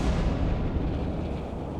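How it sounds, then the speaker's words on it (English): Deep-sea explosion rocking the Trieste bathyscaphe during its descent toward the Mariana Trench, a loud, dense low rumbling roar that fills the whole brief moment without letting up. "An explosion rocks the bathyscaphe."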